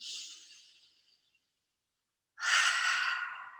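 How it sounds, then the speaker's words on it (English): A long breath out fades away, then after a brief silence a deep, audible inhale follows, close to the mic, with no talking. "Breathing in again."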